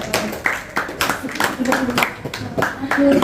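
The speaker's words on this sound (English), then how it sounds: "give applause for the parents teachers group" Clapping from a classroom group cheering for the parent-teacher group, a loose, uneven patter of hand claps with voices talking over it.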